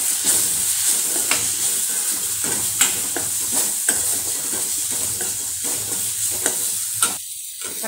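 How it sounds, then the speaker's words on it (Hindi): Spices such as turmeric, salt and coriander-cumin powder are stirred into a sizzling pan while roasting for a dry chickpea snack, with steady close frying hiss and repeated spoon scrapes and clinks throughout, no talking. "अभी इसमें हल्दी, नमक और धना जीरा पाउडर को ऐड कीजिए।"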